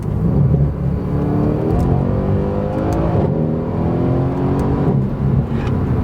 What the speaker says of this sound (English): Hopefully you guys can pick up on the exhaust sound